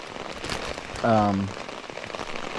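Heavy rain patters steadily onto a kayak on a hot day, a dense close hiss of drops on the hull with a brief tonal hum rising partway through.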